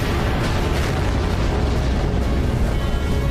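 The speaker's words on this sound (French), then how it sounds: "une violente explosion stellaire" A supernova explosion sound effect: a dense, continuous roaring rumble that holds steady and loud for the full few seconds, with no break or decay.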